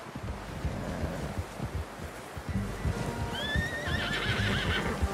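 A horse whinnies with a rising, wavering call over steady clopping hooves and wind rumble, fairly close, in the video game Red Dead Redemption 2.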